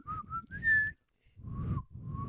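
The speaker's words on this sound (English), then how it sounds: "So I barely can whistle." A person whistles a few short, wavering notes with breathy air sounds between them, close to the microphone.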